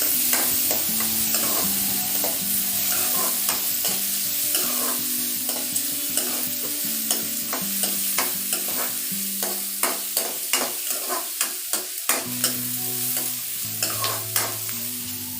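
Finely chopped big onion frying in a pan for drumstick dal, a loud continuous sizzle with repeated metal spoon scrapes and taps that quicken in a rhythmic run near the end, no voices.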